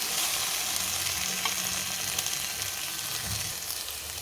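Okra frying with onion, garlic and chili powder in a pan, a steady sizzle that runs the whole time with faint stirring scrapes and no talking.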